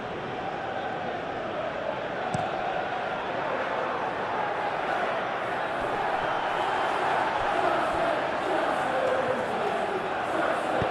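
Steady stadium crowd roar from a simulated English Premier League football match, Chelsea versus Arsenal, a broad continuous murmur with faint swells, with commentary voices talking over it throughout.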